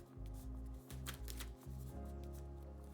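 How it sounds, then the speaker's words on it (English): A deck of game cards for a solo tabletop campaign is shuffled close up, several quick riffling bursts with brief pauses between them, no voices. "let's give this a shuffle."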